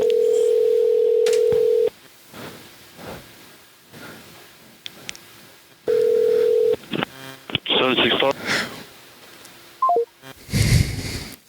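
A telephone call to a nearby gas station: two long, steady tones sound on the line, then quick keypad beeps, with handling clicks and rustling between them.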